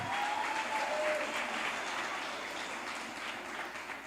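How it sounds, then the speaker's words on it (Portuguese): A church congregation applauds during a sermon, producing a sustained, even roar of many hands clapping with a brief thin whistle-like tone early on, gradually easing slightly toward the end. "Pode aplaudir."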